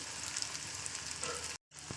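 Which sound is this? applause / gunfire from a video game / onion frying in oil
onion frying in oil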